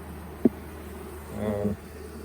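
Honey bees buzz around an open hive set among cotton on a hot summer day, a soft steady drone close by with a brief louder pass and a sharp click near the start.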